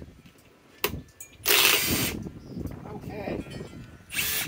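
Power drill driving big screws into sheet metal, a loud whirring burst followed by further grinding under a voice, with another short whir at the end.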